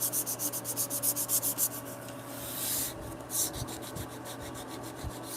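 Wood hand-sanded for a bunk bed in a home workshop, a steady run of quick rhythmic back-and-forth rubbing strokes up close, pausing briefly and then resuming, with a low hum in the background.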